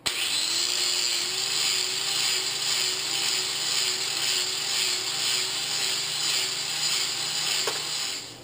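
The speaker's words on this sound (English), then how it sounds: "you'll see me just take a grinder and square that up" A grinder runs steadily and loudly throughout, squaring up a hand-forged steel socket arrowhead, with a constant whine and no talk.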